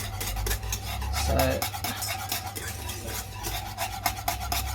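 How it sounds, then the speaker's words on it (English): Custard thickening in a pot for vanilla slice, whisked hard in rapid rhythmic metallic scrapes and clatters against the pan, close and busy throughout. "we need to be really whisking that vigorously, otherwise it's going to get lumps"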